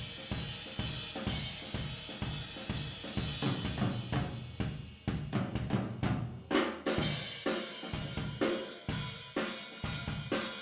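Full drum kit in an indie rock mix, room mics drenched in wide reverb, steady loud beats with washy cymbals and a brief fill midway, no voices.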